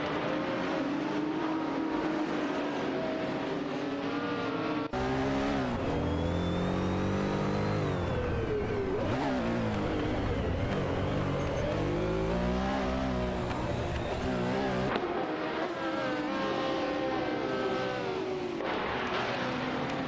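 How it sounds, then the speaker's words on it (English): Porsche 917 and Ferrari 512S race cars lapping in a video game race, giving a continuous loud engine roar with shifting, rising and falling pitch as the cars change and pass. No voices. "Patten Tanker is piloting a Porsche 917 F71, while Nukembokim is behind the wheel of a Ferrari 512s."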